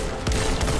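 Heavy weapon gunfire in Destiny 2 lands as two quick booming shots within a dense, loud burst of game noise, under a second long.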